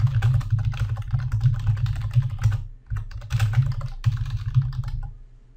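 Rapid, continuous keystrokes on a computer keyboard, close and clear, with one short pause midway and the typing fading slightly at the end.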